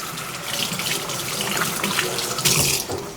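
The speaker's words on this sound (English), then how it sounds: "Now that my hands are covered in oil, I'm just gonna rinse them off" A kitchen tap runs in a steady, close gush as oily hands are rinsed under it after handling seasoned potatoes.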